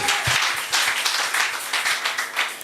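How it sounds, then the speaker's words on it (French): A congregation at a Wednesday church service in Kinshasa applauds, a dense, steady wash of many hands clapping together, fairly close and continuous for a few seconds. "Applaudissons le Seigneur"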